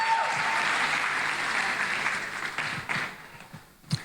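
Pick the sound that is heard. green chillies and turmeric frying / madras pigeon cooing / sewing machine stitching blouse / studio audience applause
studio audience applause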